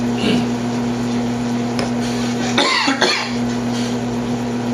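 A single cough bursts out midway over a steady electrical hum and low room noise, followed by a softer second catch of the throat.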